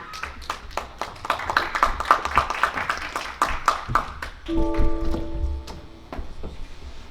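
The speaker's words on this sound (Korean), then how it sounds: "큰 박수 부탁드립니다." Scattered, fairly close hand claps come from a seated audience at a Seoul public forum welcoming a speaker. The claps are uneven and thin, then fade as a short run of sustained tones sounds.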